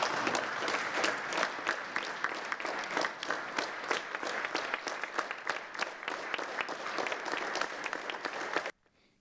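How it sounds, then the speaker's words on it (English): A large audience applauds after Nigeria's tourism presentation, sustained clapping with distinct individual claps for about nine seconds before it cuts off abruptly into silence. "the applause that followed Nigeria's presentation"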